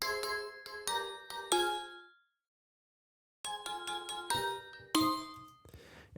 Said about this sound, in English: I'm going to record this with 3 or 4 different bell sounds and then combine them to make the part.